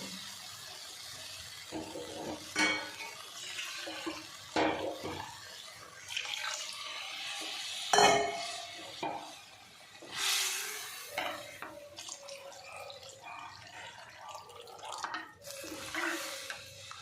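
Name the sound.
pouring water into lentils and ridge gourd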